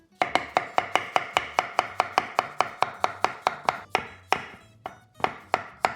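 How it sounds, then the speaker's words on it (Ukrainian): Rapid, even knife chops cut potatoes on a board, about four sharp strikes per second in a steady run, with a brief pause near the end before the chopping resumes; close and crisp, with no voices. "А тепер нам треба швиденько, швиденько, швиденько, щоб поки соус не застиг, треба нарізати картоплю."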